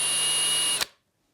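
A power drill spins at full speed boring a pilot hole through a wooden guitar headstock about half an inch thick, a steady whine that cuts off abruptly and leaves silence.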